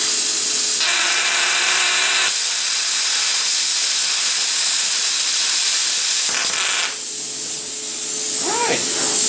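A cheap eBay plasma cutter cuts aluminum in loud, close bursts of harsh hiss and roar, one burst cut short and another trailing off with crackling, separated by brief pauses.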